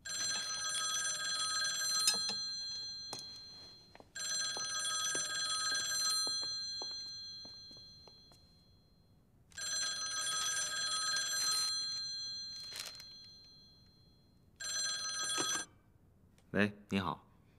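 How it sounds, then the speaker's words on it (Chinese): An old-fashioned telephone bell rings loudly in several long bursts separated by pauses, then stops as a voice briefly answers. "请赵少帅接听电话。"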